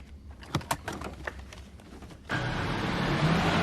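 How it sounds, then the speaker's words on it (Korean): A car drives off in a film scene: soft bird cooing and light knocks come first, then a steady engine and road rumble cuts in abruptly halfway through and carries on to the end. "대중교통을 이용해 다시 돌아온 폴은 미리 준비해둔 그렉의 차를 타고 또다시 어디론가 떠나기 시작합니다"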